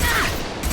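Rockets firing in the Mass Effect 2 shooter game: a brief, loud, dense barrage of blasts filling the whole moment with continuous rumbling noise.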